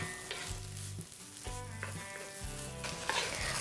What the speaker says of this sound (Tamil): அதையும் அப்படியே சேர்த்துட்டு ஒரு 4-5 நிமிஷம் நம்ம நல்லா ரோஸ்ட் பண்ணோம்